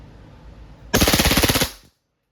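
A WE airsoft Glock 35 fires on full automatic, a single close, loud rattling burst of about a dozen rapid snapping shots that cuts off sharply, with faint background hiss before it.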